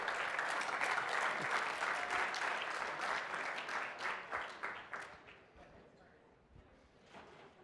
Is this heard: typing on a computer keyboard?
no